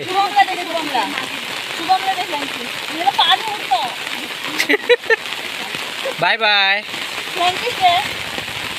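Heavy monsoon rain pours down in Konkan's Sindhudurg district, a dense, constant hiss filling the whole stretch while voices talk over it, with a brief harsh burst near the end.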